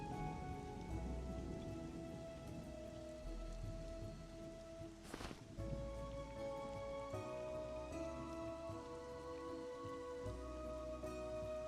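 Rain falls steadily in the video game Monsters & Memories, a soft continuous patter with a brief louder burst midway, heard alone without voices.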